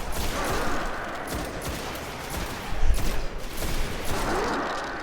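Continuous blind gunfire in a video game, a dense rattling barrage of shots with a louder burst near the middle, filling the whole stretch at steady close range.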